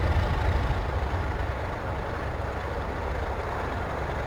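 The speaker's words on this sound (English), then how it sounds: "all the bass disappears, and you're just left with this prop sound" Heard from the front of a Flysimware Cessna C414A in a flight simulator, the twin propeller engines give a steady, droning broadband roar. The sound is continuous and fairly loud, with no voices.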